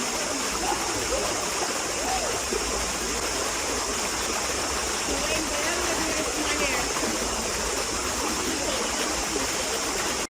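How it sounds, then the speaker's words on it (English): The river at Assin Manso, Ghana rushes steadily and loudly throughout, a dense continuous flow with faint murmuring voices beneath it. "Listen to the flow of the water."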